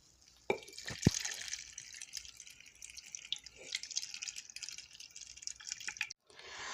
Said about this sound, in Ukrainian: Тепер наливаємо в баночки.